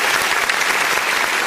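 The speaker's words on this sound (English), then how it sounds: "Clap for Jesus." A short, steady burst of audience applause, dense and even, with no voices standing out.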